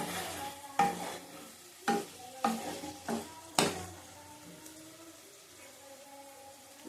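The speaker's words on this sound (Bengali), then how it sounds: "এবার জল দেবো" Water goes into a hot pan of sautéed radish curry, giving several distinct splashing hits and bursts of sizzle spaced about a second apart, then a softer simmering hiss.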